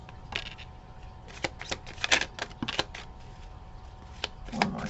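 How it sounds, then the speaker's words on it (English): Tarot cards shuffled by hand in a run of quick, crisp riffles and flicks at close range, with short bursts spread irregularly across the stretch and a soft rattle near the end. "One more shuffle here."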